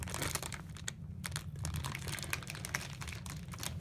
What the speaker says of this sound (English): cut the edge off that you missed.